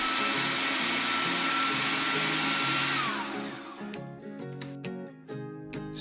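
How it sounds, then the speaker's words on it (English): A blender grinds half a keto bread roll into breadcrumbs, a loud steady motor whir that cuts off, followed by a few short pulses and rattles. "Take half an MKD roll, place into the blender, blend until breadcrumbs are formed."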